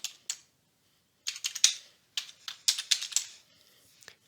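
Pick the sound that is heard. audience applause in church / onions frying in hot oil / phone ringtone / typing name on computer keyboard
typing name on computer keyboard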